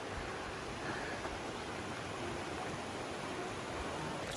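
Waterfall along the Appalachian Trail, heard as a constant broadband rush of falling water, faint and steady with no voices.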